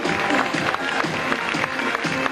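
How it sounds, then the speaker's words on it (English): Applause from a school audience for models at a fashion show, a continuous wash of clapping that fills the short moment with faint crowd murmur beneath. "Let's give that big round of applause as we say thank you to Debbie"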